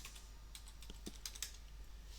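Quick run of computer keyboard keystrokes as a password is entered during a Linux setup, soft and close, irregular taps with short pauses, no talking.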